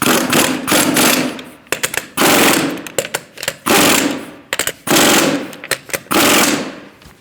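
Pneumatic impact wrench snugging wheel lug nuts on a 2008-2014 Mercedes-Benz C300 3.0L V6, loud close rattling bursts repeated several times with short pauses and quick blips between.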